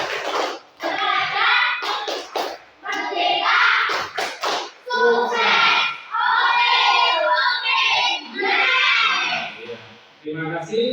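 A school class doing a rhythmic spirit clap cheer, with bursts of group clapping mixed with loud chanted voices, close and energetic.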